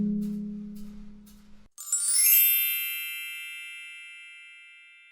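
A low tone holds steady, then a single bright bell strikes, and its shimmering metallic ring decays slowly and evenly over several seconds with no voices.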